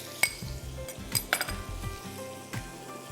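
Prawns frying in salted butter with black pepper in a pan, a soft sizzle broken by sharp clinks and scrapes of a utensil against the pan, close and fairly quiet.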